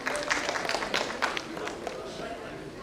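Applause from the audience at a medical conference on heart valves, a crowd clapping quite loudly at first and then fading to scattered claps, with voices underneath.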